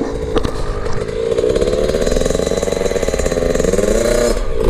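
A Yamaha 65 YZ dirt bike engine revs steadily at close range, its buzzy two-stroke drone rising and falling in pitch without a break.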